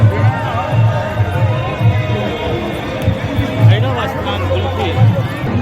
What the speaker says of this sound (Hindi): देखियो लोग के भीड़, धीरे धीरे